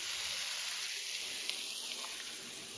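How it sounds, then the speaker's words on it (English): Vegetables sautéing in a pan on a turned-down burner, giving a soft, even hiss that holds steady throughout, close but quiet, with no voices. "I'm just going to let it sit there and saute."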